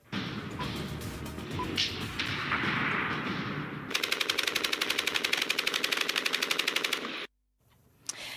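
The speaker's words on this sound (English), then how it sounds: "Gunshots near the presidential palace in the Guinean capital" Rapid bursts of automatic gunfire near the presidential palace in Guinea's capital rattle loudly over a rumbling background, then stop abruptly into near silence.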